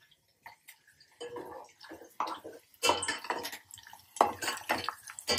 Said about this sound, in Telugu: గోలండి, మంచిగా గోలండి